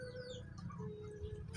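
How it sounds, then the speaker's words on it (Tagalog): Chickens on a gamecock farm cluck and chirp in short bursts over a steady low background rumble, with a faint, thin tone running underneath. "Yata ito yung mga manok."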